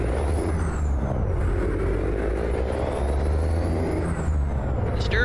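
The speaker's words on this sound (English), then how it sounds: "That helps if I take the brake off." In a truck driving game, a truck hauling a bridge deck on a steerable dolly from Missoula, Montana, sits under a steady low engine rumble as its air brake releases with a hiss.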